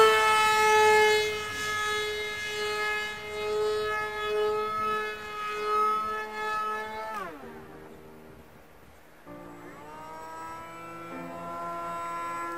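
A Racestar BR2212 1800Kv brushless motor spinning a propeller at full throttle gives a loud, steady, harmonic whine that suddenly drops in pitch as the throttle is cut, then a quieter tone resumes.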